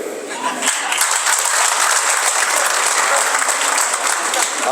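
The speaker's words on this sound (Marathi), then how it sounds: "सगळे एकदा जोरदार टाळ्या वाजवा त्यांच्यासाठी" A crowd at a political rally bursts into loud, sustained applause, a dense wash of clapping that swells in under a second and holds steady to the end with no break.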